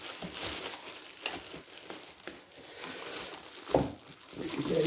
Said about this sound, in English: So let's get it out of its inner wrappings then, the plastic bag.